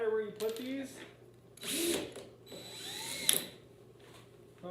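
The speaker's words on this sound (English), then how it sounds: "you're just going to put some screws on here so that way you can attach your string" Small square-head screws being driven into a wooden easel, short ratcheting, whirring mechanical bursts separated by pauses, fairly quiet and close, with faint handling noise between.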